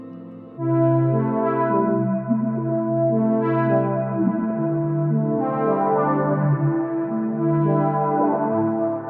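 A sustained instrument tone washed in dense, layered reverb, notes blurring together into a lush, lingering tail.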